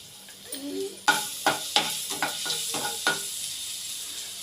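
Ginger garlic paste frying in hot oil for a masala pasta: a steady sizzle with several sharp spoon-on-pan clinks and scrapes as it is stirred, close and fairly loud, no talking.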